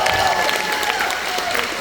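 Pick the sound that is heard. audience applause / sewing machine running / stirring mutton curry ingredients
audience applause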